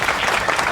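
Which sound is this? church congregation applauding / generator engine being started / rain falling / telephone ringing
church congregation applauding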